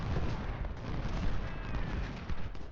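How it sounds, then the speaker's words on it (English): Artillery fire in the Ultimate General Civil War video game, with the Civil War battle setting: a steady, rumbling mix of distant cannon booms and gunfire, dense and constant, with no voices. "See how our artillery's doing."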